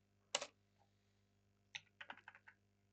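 A computer keyboard gets a few quick, close keystrokes in quiet, one isolated press followed by a short burst of about five taps, for commands in AutoCAD.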